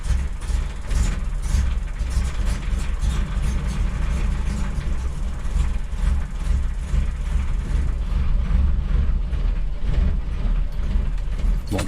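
A car engine idles with the choke pulled fully out, a steady, loud mechanical drone with a constant rumble that holds unbroken throughout, alone with no talk over it.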